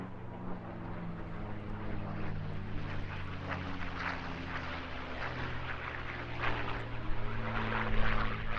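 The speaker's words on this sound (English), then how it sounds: "please welcome the P-51D Mustang" A P-51D Mustang, the World War II propeller fighter, flies over the Eastbourne International Airshow with a steady, loud engine drone that holds throughout and swells slightly toward the end.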